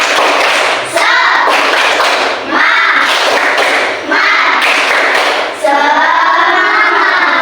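Classroom of students performing the rhythmic tepuk semangat spirit clap, loud patterned bursts of clapping and thumps repeated in several sections with brief gaps between, close and energetic, with voices chanting along.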